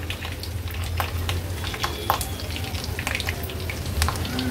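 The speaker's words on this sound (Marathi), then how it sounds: "अगदी थोडंसं हिंग घालूया।" Asafoetida with mustard seeds, cumin and curry leaves crackles and sizzles in hot oil in a kadai, a steady close frying hiss with scattered sharp pops throughout.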